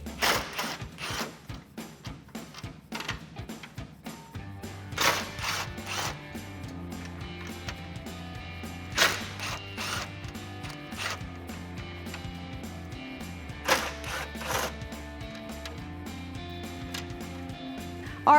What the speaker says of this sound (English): Go ahead and grab a 10mm socket and get these removed.